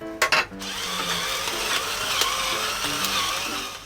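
A pepper mill grinds black pepper into a bowl of karaage marinade, a steady close gritty whirring after a couple of brief knocks at the start.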